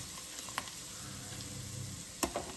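Coconut pieces fry for cherupayar payasam, a faint steady sizzle with a couple of sharp clinks of a spoon against the pan.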